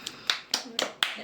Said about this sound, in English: Oh, clap for Priscilla.